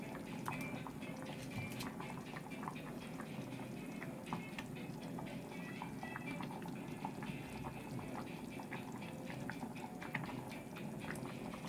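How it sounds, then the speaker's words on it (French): Small meat pieces simmer in a pan of tomato sauce, a steady close bubbling and popping that runs unbroken throughout, with no voices. "des petits morceaux, ils vont cuire dans la sauce"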